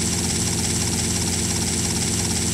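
Helicopter in the video game GTA: Vice City Stories gives a loud, steady rotor and engine drone, close and unbroken throughout, with no talking.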